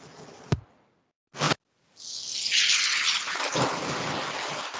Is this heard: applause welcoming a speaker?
no